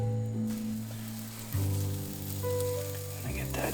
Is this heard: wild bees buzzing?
no